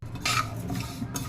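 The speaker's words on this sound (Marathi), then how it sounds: "आता आपण मटकीची डाळ टाकून घेऊ आणि मस्त भाजून" Moth bean dal being dry-roasted and stirred in a kadai, brief scraping and rustling of a metal spoon against the pan in a few quick strokes, no talking.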